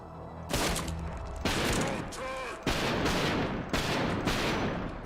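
Sustained bursts of automatic gunfire from the video game Trepang 2, loud and close, coming in several long volleys separated by brief pauses.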